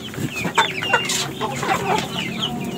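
Village chickens cluck busily while pecking at fermented tofu pulp feed, a close, continuous chatter of soft clucks and squawks from several birds.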